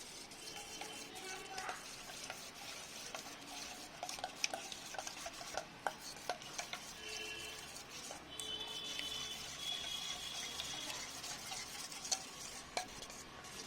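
Spoon stirring and scraping in a pan as gravy, meat masala, coriander and cumin powder are mixed for chicken drumsticks, with a soft continuous sizzle and light clinks, fairly quiet.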